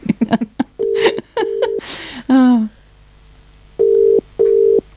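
Brief laughter and voices give way to a phone's ringing tone, heard as paired electronic bursts repeating near the end.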